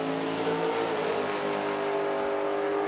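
A Corvette and a dragster at a drag race at the T&T Motorsports Oil City Classic in Edmonton, Alberta, giving a continuous loud engine roar with steady droning harmonics, heard from the trackside.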